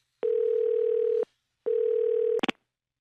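Two steady telephone dial tone beeps, each about a second long, followed by a quick double click.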